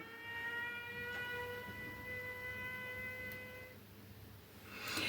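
Air raid siren sounding during the war in Ukraine, a steady multi-tone electronic wail held for several seconds before cutting off, fairly loud over low background rumble.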